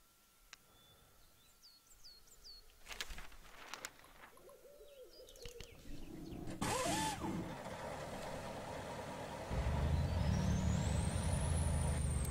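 A truck engine in the Spintires off-road driving game, an OshKosh HEMTT road train, starts and rises into a loud, steady rumble, with owl-like hoots and game effects before it and no talk.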